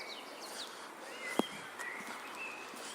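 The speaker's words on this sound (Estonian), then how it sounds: "Linnud laulavad." Faint birdsong drifts through a spring forest in early May, a few thin high chirps and whistles scattered over soft ambient hiss, with one brief close tap or footstep.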